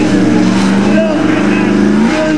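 A truck's engine revs with a loud, steady roar as it drives up at the Dorset County Show, an outdoor county show. An announcer talks over the engine noise throughout.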